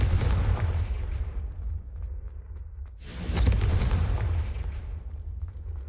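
A Confringo blasting spell explodes in Hogwarts Legacy: a loud, booming burst with a rumbling tail, then a second heavy blast about three seconds later, with no voices.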